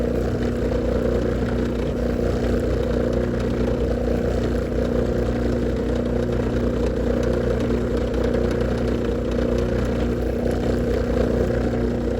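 A power drill bores stitching holes through leather with a steady, unbroken motor hum that stays loud and close throughout.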